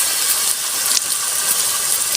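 A steady, loud rush of water gushes from a pipe on a mountainside, pouring and hissing continuously at close range, with no voices.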